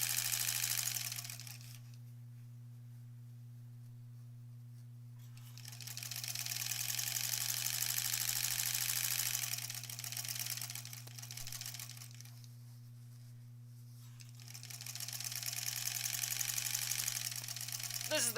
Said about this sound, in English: This is the kind of sewing where one runs out of bobbins.